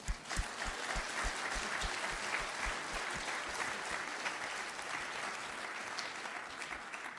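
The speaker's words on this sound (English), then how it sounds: "Ladies and gentlemen, put a round of applause for Jeff Torrance." Sustained audience applause for a speaker at an International Students Ministry Day gathering: dense, even clapping from a crowd that stays loud and steady throughout.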